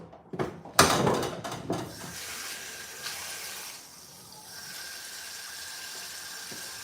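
Tap water runs while cassava is washed for fufu, starting with a few clattering knocks and splashes, then settling into a steady, soft flow into the basin.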